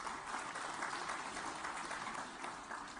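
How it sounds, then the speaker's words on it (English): A big audience applauds at a plastics industry trade show event in Hyderabad. The applause is a steady, dense wash of clapping that holds evenly for the whole stretch, sounding distant and fairly faint. "may I hear a big round of applause for this."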